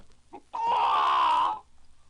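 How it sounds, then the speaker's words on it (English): A rooster perched on a farmyard gate crows once, a loud sustained call lasting about a second after a brief cluck, then falls quiet. "on the gate sat a rooster, crowing with all his might."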